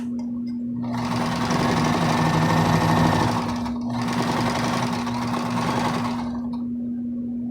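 A sewing machine stitching fabric masks, a close steady mechanical whir and rapid needle chatter running in two long bursts with a brief pause between, over a constant electric hum.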